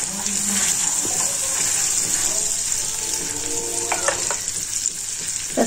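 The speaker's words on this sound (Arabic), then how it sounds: "خلط مزيان حتى تدخل لي هاد الزبده في هاد" Butter is stirred into hot caramel in a pan, giving a steady bubbling sizzle with soft spoon scrapes and stirring sounds throughout, close and continuous, no speech.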